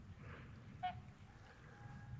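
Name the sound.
snow geese and trumpeter swans calling at a lake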